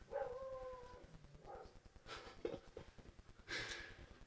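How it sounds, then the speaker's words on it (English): Several dogs bark behind a concrete wall outdoors, in short irregular yaps and whimpering bursts at moderate distance, with a few louder barks near the end and no talk over them. "Oh, those dogs."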